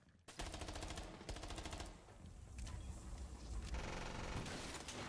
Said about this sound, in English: Soul seeing some bullets fly.